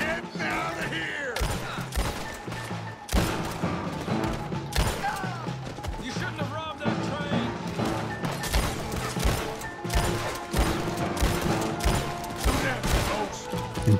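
Pistol fire in the Red Dead Redemption 2 video game, with a dense, near-continuous run of loud shots and impacts, people talking over the shooting.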